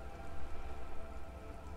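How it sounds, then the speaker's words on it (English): Steady rain falls on wooden boards and surrounding water in the video game Disco Elysium, a soft, dense patter heard alone without voices. "All around you, rain keeps falling down."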